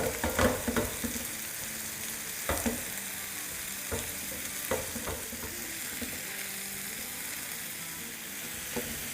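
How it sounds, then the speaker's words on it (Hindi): Chicken mince fries in a pan, a steady sizzle broken by repeated scraping strokes of a spoon stirring it, close and fairly loud with no voices. "चिकन का कीमा बहुत क्विक पक जाता है, तो बस इसको थोड़ी देर इस तरह से हम भूनते हैं"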